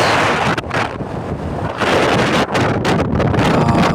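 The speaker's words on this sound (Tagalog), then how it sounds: "malakas din yung hangin" Strong wind on a ferry deck buffets the microphone in a loud, continuous roar with gusty surges, over a faint wash of water and engine rumble.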